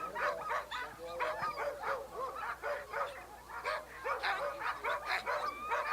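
Many sled dogs bark and yip excitedly together in a continuous, overlapping chorus, fairly close and loud, with a few whimpers mixed in, on race day of the Iditarod.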